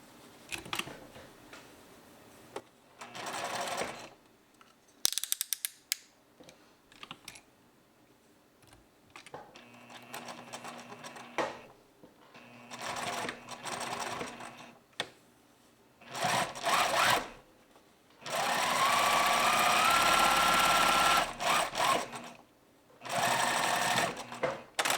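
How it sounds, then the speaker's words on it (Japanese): A sewing machine stitches across the pocket opening of a reversible poncho, running in several short and longer bursts separated by quiet pauses, close and clear. "ポケット口にステッチをかけます。"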